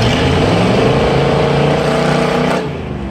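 A straight-piped 6.2 liter Detroit Diesel V8 swapped into an Isuzu Trooper roars loudly and steadily while cruising, a deep rough engine drone that eases off slightly near the end, with no talking.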